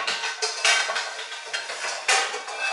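A frying pan, likely non-stick, is handled in a kitchen, with repeated metallic clanks and scrapes of cookware knocking together, close and fairly loud, no talking.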